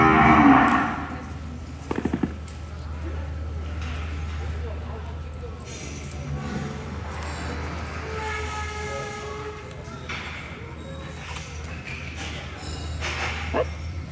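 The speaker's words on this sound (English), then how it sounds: "we've got a bunch of cattle in the arena" Gray calves and other cattle crowd a show arena at a winter classic livestock event, with scattered moos rising over a steady low hum while people talk throughout.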